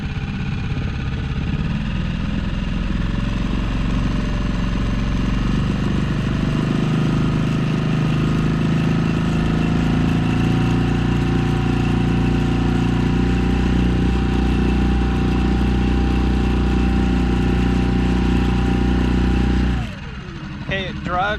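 An outboard engine on a dinghy idles steadily and loudly close by, a constant low droning hum that holds for about twenty seconds before cutting off abruptly near the end.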